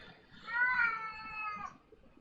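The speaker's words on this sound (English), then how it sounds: "That's our cat wanting whipped cream." A pet cat meows once, a drawn-out, slightly whiny call lasting about a second, close but fairly quiet, with a faint low rumble in the background.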